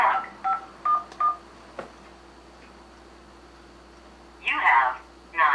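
Telephone keypad tones entering a voicemail password: about four short beeps close together, a click, then a longer burst of tones after a pause, with no talk over them.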